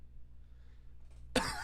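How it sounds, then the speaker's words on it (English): A single sharp, close cough erupts abruptly after a near-silent stretch during a League of Legends game, loud against the quiet. "Sorry for that cough."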